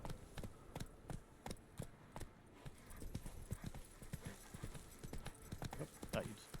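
Hooves of Roach the horse clopping in The Witcher 3, a steady rhythmic trot of repeated sharp hoof strikes, moderately close and quiet, with occasional talk over it.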